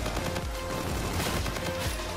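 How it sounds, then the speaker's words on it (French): Call of Duty gunfire rattles in fast, dense bursts of rapid shots, loud and continuous across the whole stretch, with no pause and no voices. "je vais mettre deux fois plus de balles que tout à l'heure"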